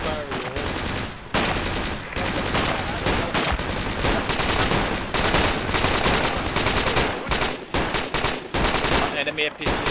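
Rapid, dense video-game gunfire with machine-gun bursts and fusillades filling nearly the whole stretch, loud and close with only brief gaps, over a combat scene with damaged armored vehicles nearby.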